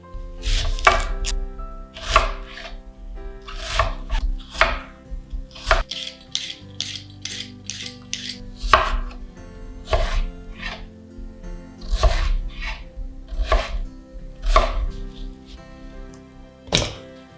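Knife chopping onions and swede into cubes on a board for a Cornish pasty, a steady run of close, firm thunks with short scraping strokes between them, fairly loud with no talk.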